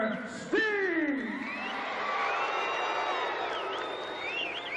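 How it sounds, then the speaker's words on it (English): A wrestling arena crowd at a 1987 UWF event roars and whoops as the wrestlers are introduced, a loud sustained swell of cheering and shouting after a sharp opening burst, with an announcer's voice over it. "And this crowd, they're getting pumped right now"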